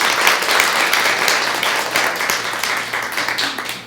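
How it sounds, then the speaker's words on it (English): Loud, dense audience applause at a body-language show, continuous clapping from a close crowd filling the whole clip without pause. "can you guys just give a round of applause towards my mom?"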